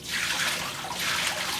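Water poured into a Spaceman soft serve machine to stand in for sanitizer, a steady close trickle and splash running for the whole short stretch.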